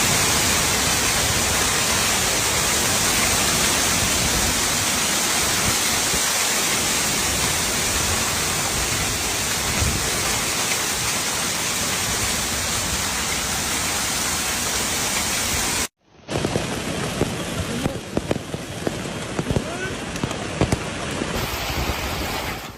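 A loud, constant roar of heavy rain during a hailstorm fills most of the recording, then cuts abruptly to a different noisy wash with sharp crackles.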